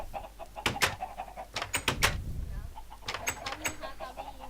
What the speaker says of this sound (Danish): Et slag for en høne